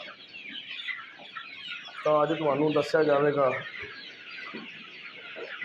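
Desi chickens on a farm cluck in the background while someone talks over them, with a louder burst of voice in the middle and the flock's soft clucking continuing around it.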